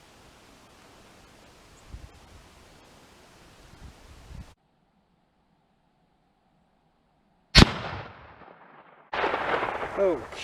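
One sharp, loud report from a Winchester 1895 hunting rifle fired up close, ringing out briefly after a stretch of quiet, with a second burst of noise a moment later.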